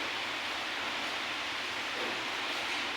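Rain falls outside as a steady, dense, even hiss with no breaks, filling the space at moderate loudness with no voices.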